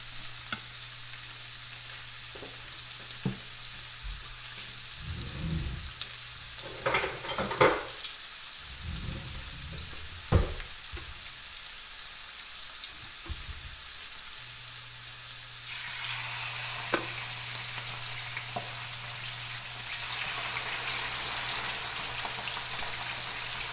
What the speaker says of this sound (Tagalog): Haluin lang po natin hanggang mag-lightly cook or cook na yung ating pork.